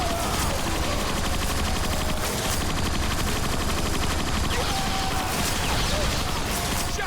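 Shotgun gunfire in a Transformers video game sounds as dense, continuous battle noise: repeated heavy blasts and crashes packed over a loud, unbroken backdrop.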